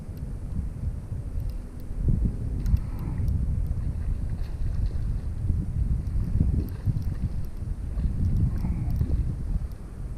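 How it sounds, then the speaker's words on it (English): A speeding motorboat passes at about 90 miles an hour outdoors, its engine roaring, rising and surging in waves, with wind buffeting the microphone. "And a boat coming 90 miles an hour."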